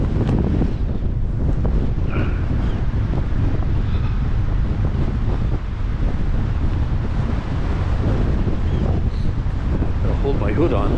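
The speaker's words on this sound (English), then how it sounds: "It's so windy it's trying to blow off." Strong, cold wind gusts roar and buffet the microphone continuously on the coast at Cockersand Abbey in the UK, with a faint murmur of surf or a distant boat underneath and a voice barely audible through the noise.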